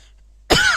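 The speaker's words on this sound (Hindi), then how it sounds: "थोड़ा खांसी आ रहा, सॉरी" A single sharp cough bursts out loud and close after a near-silent pause, a short harsh burst from a man teaching a physics lesson indoors.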